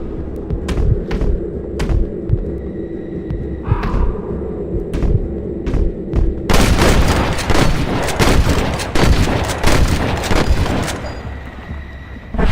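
Gunfire breaks out during a gate battle in Red Dead Redemption, starting as spaced single shots and then becoming a loud, dense fusillade of rapid overlapping rifle and pistol fire that keeps going nearly to the end.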